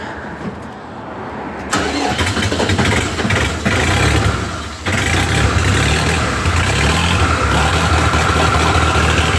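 A Scout TE-504 tractor engine, left unstarted for three days, cranks and catches in freezing frost, then settles into a loud, rough, steady idle close by with no talk.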